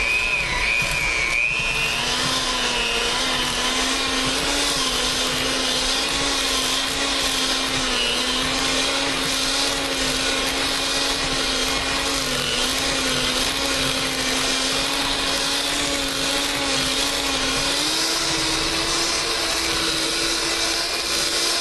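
A blender runs continuously with a steady, loud motor whine while beating homemade Boursin cheese ingredients, the pitch shifting slightly as the thick mixture works through the blades, with no talking over it.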